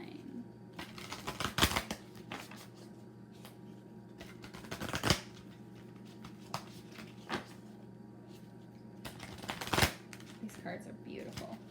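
Tarot cards shuffle in short riffling bursts, a few of them louder, recurring through a quiet stretch of soft hiss, with faint talking heard in places.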